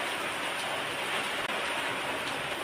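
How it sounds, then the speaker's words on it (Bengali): Heavy rain pours steadily during a thunderstorm in Pirojpur, a dense, even roar with no break, close and loud throughout. "অনেক জোরে বৃষ্টি নেমেছে, অনেক জোরেই বৃষ্টি হচ্ছে"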